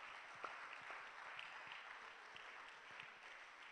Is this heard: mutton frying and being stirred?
no